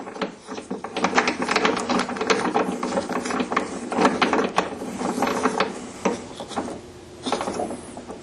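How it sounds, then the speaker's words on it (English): Metallic ratcheting clicks and clatter from a locking ring being tightened on a die in a Lee four-hole turret press, a busy run of close, fairly loud mechanical ticks with no voices. "and then lock down your locking ring."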